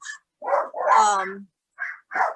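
Several dogs bark indoors, a quick string of sharp barks with one longer, drawn-out yelp among them, and a voice briefly mixes in.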